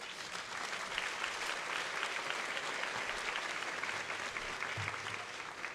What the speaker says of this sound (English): If we can give Anastasia a round of applause.